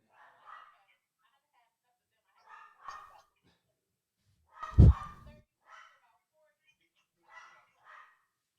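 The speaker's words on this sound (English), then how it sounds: "y'all can hear the dog?" A dog barks several times somewhere upstairs, the barks spaced out and muffled, and one close thump stands out in the middle.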